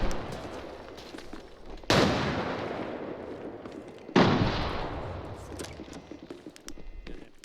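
Gunfire in the shooter game Arena Breakout Infinite: two loud, sharp shots about two seconds apart, each with a long echoing decay, over a low background of game ambience and faint clicks.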